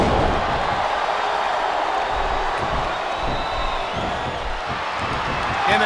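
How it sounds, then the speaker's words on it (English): An arena crowd in the wrestling game WWE SmackDown vs Raw 2007 roars and chants continuously, a loud, dense wall of cheering with rhythmic pulses throughout. "And the crowd has come alive tonight with a chant directed at the superstars in the ring."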